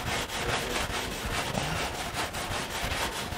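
A Scotch-Brite pad scrubs rust off a metal surface in quick, regular back-and-forth strokes, a close, gritty, harsh rasping that keeps an even rhythm throughout with no voices.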